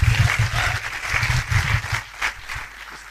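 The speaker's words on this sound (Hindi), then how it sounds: "जोरदार तालियां बॉस, काम हो गया।" An indoor audience at a motivational seminar claps loudly, a dense, steady burst of applause that swells and then thins slightly over about three seconds.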